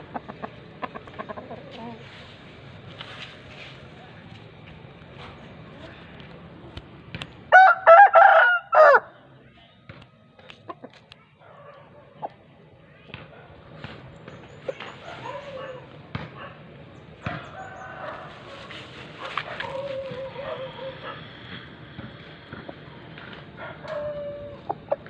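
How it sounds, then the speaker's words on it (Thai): A rooster crows loudly once amid a noisy yard, followed by scattered clucking and background voices. "ไก่ไก่ที่เลี้ยงไว้ครับ"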